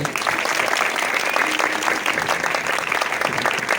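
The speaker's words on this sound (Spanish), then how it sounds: "Antes dicen, me den un aplauso, Señor." Congregation at a church service breaking into loud, continuous applause, a thick wash of many hands clapping together without pause.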